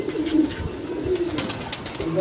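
Several pigeons coo nearby in repeated low warbling phrases, fairly loud and overlapping, with some scuffling and faint background voices.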